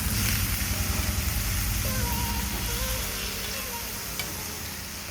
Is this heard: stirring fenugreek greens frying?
yes